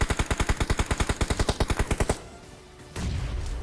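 Rapid automatic gunfire in the video game PUBG, a loud close burst of about twenty evenly spaced shots, then a brief lull and a second noisier blast, no talk.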